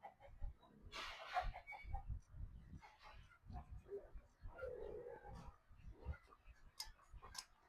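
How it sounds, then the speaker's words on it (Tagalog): Domestic chickens cluck and squawk close by in short bursts at feeding time, scattered rustling and brief low voices mixed in. "Tara at pakainin natin yung ating mga alagang manok."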